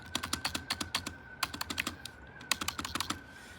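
Keys clatter on a LANGTU membrane gaming keyboard in quick bursts of soft, close clicks, with a few heavier thumps from the space bar.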